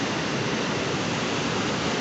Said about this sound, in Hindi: आप लोग देख सकते हैं यहाँ का पानी का बहाव कितना खतरनाक दिखाई देता है।